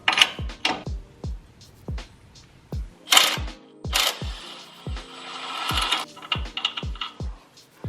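Wrench and breaker bar working a shock bolt on a Tacoma front suspension, giving a steady series of sharp metallic ratchet clicks at a regular rhythm, close up, with a few louder clanks between them.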